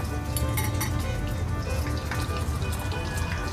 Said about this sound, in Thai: น้ำมันร้อนนะคะ ให้เราใส่ไข่ลงไปเลยค่ะ